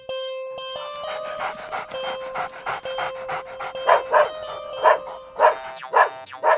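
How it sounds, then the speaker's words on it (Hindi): A dog pants rapidly and steadily while digging in soil, then breaks into several loud, close barks in a quick, uneven series. "क्यों भौंक रहे हो?"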